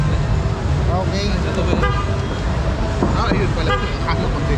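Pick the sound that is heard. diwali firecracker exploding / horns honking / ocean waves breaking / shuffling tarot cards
horns honking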